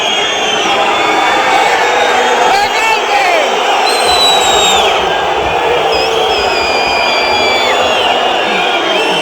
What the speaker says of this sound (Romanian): L-au și aplaudat oamenii